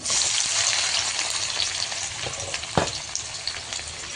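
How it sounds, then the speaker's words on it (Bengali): Chopped onion and garlic sizzle in hot oil with toasted cumin seeds in a home kitchen, a steady loud frying hiss with a sharp crackle near the end and light stirring. "জিরা ভাজা হয়ে গিয়েছে এখন দিয়ে দিব আমি এই কেটে রাখা পেঁয়াজ আর রসুন"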